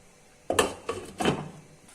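A metal lid clanks down onto a pan of cashew curry gravy with tomato puree, making three quick clattering knocks in close succession, then it goes quiet.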